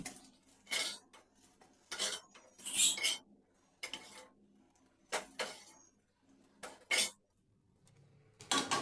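Lightly fried potato pieces are lifted out of a frying pan with a metal utensil, giving sharp scraping clinks in irregular bursts separated by quiet gaps, close and clear.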